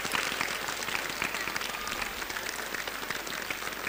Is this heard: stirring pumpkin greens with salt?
no